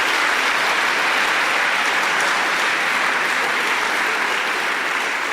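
A church congregation applauds at a Eucharist service, with loud, dense, continuous clapping that fills the whole stretch and no voice rising above it.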